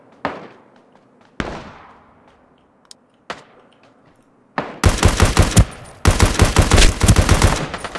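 Gunfire in the online battle royale game Ring of Elysium: a few isolated sharp shots with decaying tails, then two dense bursts of rapid automatic fire, loud and close, with no talking.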